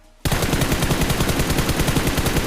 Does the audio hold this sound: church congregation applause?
no